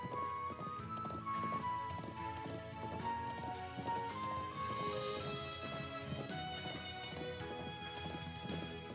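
A horse's hooves clip-clop at a steady trot in the video game Trails of Cold Steel III, the quick rhythmic beats running through the whole stretch under ongoing game music.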